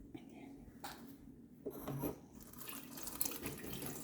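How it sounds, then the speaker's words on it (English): Tap water runs into an indoor sink as freshly dug vegetables are rinsed, a steady close splashing hiss with a few brief rises and soft handling noises, no one talking. "being that I'm rinsing this indoors"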